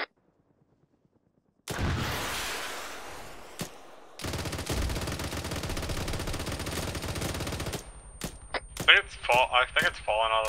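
Video-game gunfire erupts after a brief silence: long, loud bursts of rapid automatic fire, then a dense sustained barrage, ending in a choppy run of separate shots and blasts.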